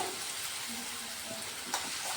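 Kadhi tempering (vaghar) sizzles in hot oil, a soft, steady frying hiss with faint crackles and one brief louder spit, heard close with no talking.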